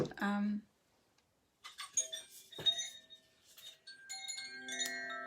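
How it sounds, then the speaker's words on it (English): Bright, shimmering koshi chime tones ring out in scattered clusters, with sustained metallic overtones lingering and overlapping, after a brief low tone and a short pause. "the koshi chimes"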